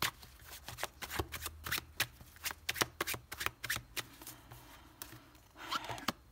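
Tarot cards are shuffled and laid out close up in quick, papery flicks and slaps with an uneven rhythm, faint and soft in a quiet room.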